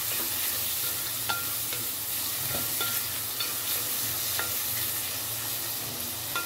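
Finely chopped onion fries in a pan for egg biryani, giving a constant, moderate sizzle with occasional light clicks of stirring. No voices are heard.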